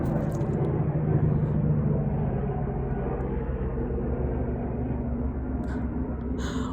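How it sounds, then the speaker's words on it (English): A hospital helicopter passes over a residential area near a hospital, a steady loud engine rumble and drone that holds evenly throughout with no talking. "there's a hospital helicopter that goes over our area every once in a while"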